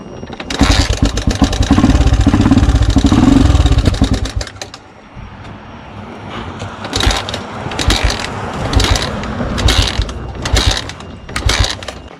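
Dirt bike engine running loud and steady for a few seconds, then dropping to a lower idle with repeated revving bursts and mechanical rattling between them.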